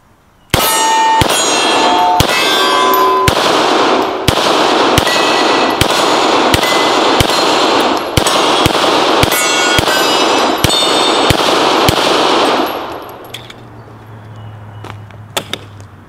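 Pistol shots fired at a shooting range, about a dozen loud sharp reports in a quick, fairly regular string with ringing tails, followed by quieter clinks and faint handling noises.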